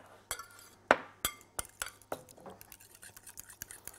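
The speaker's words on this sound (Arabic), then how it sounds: "نحط الزبادي والثوم ونجيب شوكة أو مضرب أو أي حاجة نقلب" A fork stirs yogurt and garlic in a dish, giving quick, close clinks that start sharp and sparse and then settle into a fast, lighter rhythmic tapping.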